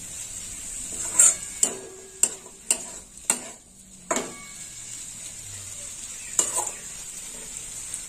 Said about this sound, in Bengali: খোয়া ক্ষীর দিয়ে পেঁয়াজটা ভাজা হয়ে গেছে